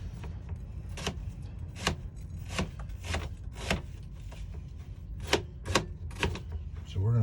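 Knife chopping through an onion on a cutting board: a steady series of crisp, sharp chops, close and fairly loud, spaced about every half second, over low kitchen background.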